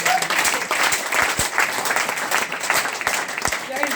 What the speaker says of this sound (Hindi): देखो सब तालियां ऐसे बजती है, ऐसे